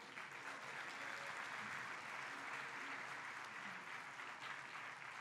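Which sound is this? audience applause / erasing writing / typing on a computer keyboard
audience applause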